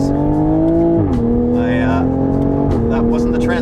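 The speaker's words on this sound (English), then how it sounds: "I shifted too late because this car does rev really quickly in first gear" A 2020 Toyota Supra engine revs hard and high in first gear, its note climbing steadily before a late upshift drops the pitch and it climbs again, loud and close on a mountain road.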